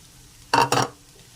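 Pancit canton noodles with cabbage and scrambled egg are stirred in a pan, producing two short, close scraping swishes with a light sizzle, then quiet.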